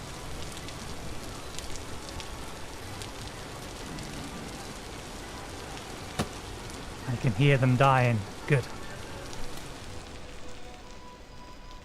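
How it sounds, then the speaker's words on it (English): Steady rain falls in the Vintage Story video game, a constant soft hiss throughout, with a brief spoken remark and a short tonal game sound rising over it midway. "let's quieten the rain"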